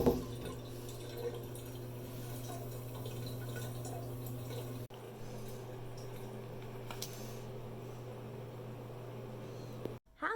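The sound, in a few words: bath water running from the tap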